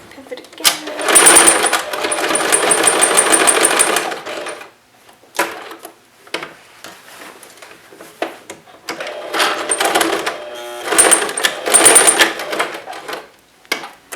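A sewing machine stitches a small square, running in loud, steady whirring bursts with brief stops and clicks at the corners before starting again.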